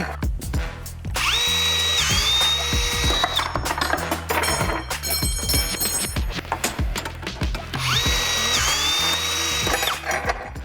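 A Milwaukee M18 brushless cordless threaded rod cutter, model 2872-20, cuts threaded rods. Two rising whirring motor runs are heard alongside repeated sharp mechanical clunks and clicks, loud and close, with no speech.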